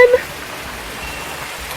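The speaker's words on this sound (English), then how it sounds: "And here comes the rain again." Rain falls steadily outdoors around orchids in Jamaica, a soft continuous hiss of drops on surfaces, moderate and even, after a brief chirping at the start.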